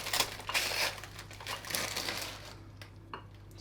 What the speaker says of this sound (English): add some Weetabix into a small container, which we're going to crush up